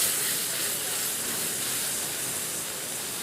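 Puree of boiled onions hits hot ginger and garlic in a pan, giving a steady, fairly faint broadband sizzle and hiss that stays even throughout.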